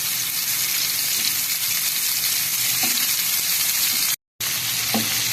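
Kofta sizzles in a frying pan, a loud, dense, continuous crackle with a few faint scrapes, broken by one brief silent gap.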